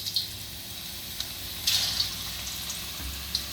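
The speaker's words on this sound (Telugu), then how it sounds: "ఇప్పుడు మనము ఈ బాల్స్ దీంట్లో వేసుకొని ఫ్రై చేద్దాం" Mutton kheema balls frying in hot oil give off a steady, close sizzling hiss with small pops and crackles scattered through it, and no talk over the sound.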